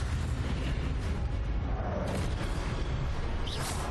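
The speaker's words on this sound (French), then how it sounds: "L'explosion." An explosion in Hogwarts Legacy on the Switch gives a dense, sustained low rumble with crackling debris noise across the whole stretch, loud and continuous, with no voices.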